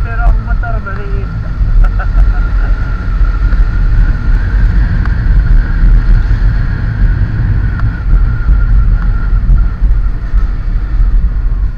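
A small motorcycle rides along a rural road in a farming barangay, its engine rumbling loud and steady under heavy wind buffeting for the whole stretch, without talking.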